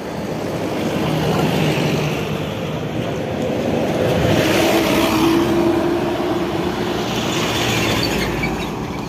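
A Dewi Sri bus passes at night on a road beside an Islamic boarding school under construction, its engine and tyres swelling into a loud, steady roar that rises and falls gently as it goes by.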